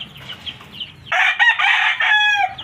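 Hens cluck softly in a farmyard flock kept for disposal, then a rooster crows loudly and close by, the long call broken into rising, wavering segments.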